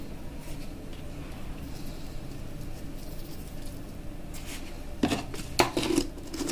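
Faint metallic clinks and scraping of a spoon stirring salted country chicken curry with green peas in a pot, a steady low background hum throughout and a few sharper clatters near the end.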